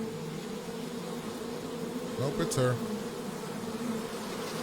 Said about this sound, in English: No, she's shooing the bees away,